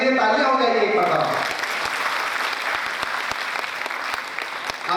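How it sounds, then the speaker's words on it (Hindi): Audience applause at a Muslim educational conference in Amravati, a dense crowd clapping that starts under a voice on a loudspeaker and continues alone as an even, sustained patter with a few sharper claps. "उनके लिए तालियां हो जाएगी एक बार"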